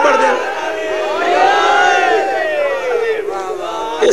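Mourners at a majlis about Imam Hussain shout the Naara-e-Haidari slogan together, a loud massed chant of many voices rising and swelling in pitch over about four seconds.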